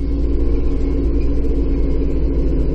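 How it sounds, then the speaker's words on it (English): Tractor engine running near idle during snow clearing in Newfoundland, a loud, close, steady low rumble that holds an even pace with no rise in revs. "the tractor hardly came out of idle"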